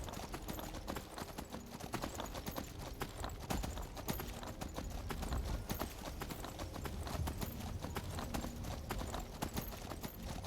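Horse hooves galloping in Skyrim Anniversary Edition, a rapid, steady clip-clop of hoofbeats running continuously and fairly close, with no talking.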